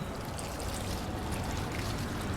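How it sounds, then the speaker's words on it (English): A small watering can pours water steadily onto a freshly repotted plant, a soft continuous trickling wash heard close and alone. "here's my cute little watering can. I'm going to go ahead and give it a really good first drink"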